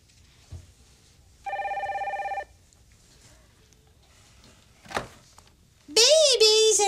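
A telephone rings once in a short electronic burst amid a quiet room, followed by a sharp knock and then a bright, chirpy sweep of sound.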